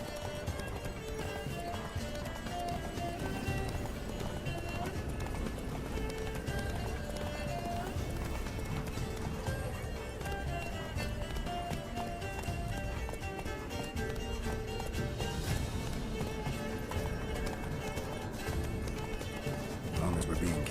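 Horse galloping in The Witcher 3, rapid continuous hoofbeats thudding throughout alongside game sounds, with voices talking over the ride.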